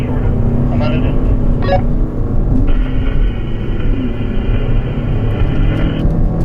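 From inside a Toyota RAV4 Prime accelerating hard toward 60 mph, a loud, steady engine and road drone rises with a brief tonal whine, while people talk inside the cabin.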